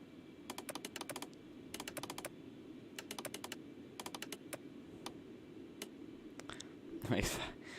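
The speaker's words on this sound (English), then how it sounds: "like clicking that button like that, is funny. It makes great noise" Cockpit buttons and switches are clicked in quick rattling bursts on the flight deck of the Concorde in the X-Plane 11 flight simulator, crisp and close, with a voice speaking underneath.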